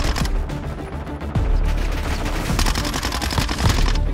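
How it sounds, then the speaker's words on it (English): Warzone video game gunfire: continuous rapid automatic bursts from a rifle rattle loudly and close, with sharp repeated shots and booming impacts throughout. "That was shooting at nothing there."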